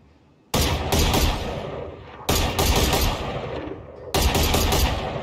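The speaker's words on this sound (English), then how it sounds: "Let's try out some different guns on these targets." Three loud bursts of rapid automatic gunfire from different weapons in the video game Valorant, fired at practice targets, each burst a dense close string of shots with brief gaps between them.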